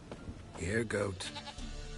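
A goat in The Witcher video game lets out a short wavering bleat, close and clear, with speech-like vocal tones around it.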